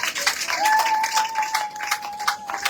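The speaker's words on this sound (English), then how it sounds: "Clap for our mother." Audience clapping at a maternal ward dedication ceremony, moderate bursts of hand claps continuing for a couple of seconds under a faint sustained tone and some voices.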